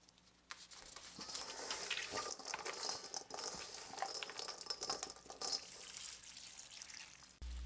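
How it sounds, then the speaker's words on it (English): Port wine poured from a bottle over dried fruit in a bowl for a Jamaican black rum fruitcake, a quiet steady splashing and trickling stream lasting several seconds, heard close with no talking. "Pour in a bottle of port wine to soak the fruit"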